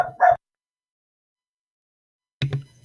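A dog gives two short barks close by, then another bark with a low growly tail after a long silent gap.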